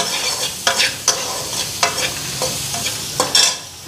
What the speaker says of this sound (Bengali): এই যে পেঁয়াজ কাঁচা লঙ্কাটা দিয়ে দিলাম